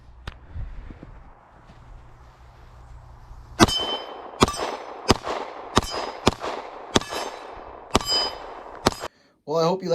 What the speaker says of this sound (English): Shoot the last mag here.